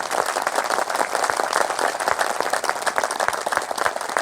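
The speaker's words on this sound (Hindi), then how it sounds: "इस पे जोर की ताली बजाओ" Loud, sustained audience applause fills the whole stretch, a dense wash of many hands clapping at close range with no speech over it.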